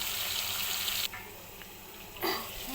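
Vegetables stirred and cooking in a pan give off a steady hiss of frying, with a sharp drop midway and a brief louder clatter of stirring near the end, and no talking.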